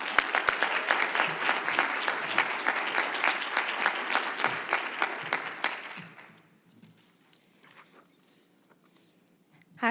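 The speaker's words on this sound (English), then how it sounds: "So I'm asking for a huge round of applause for these students" A large audience applauds students at a youth-led school board candidate forum. Dense, steady clapping fills the room for about six seconds, then thins to scattered claps and quiet room noise.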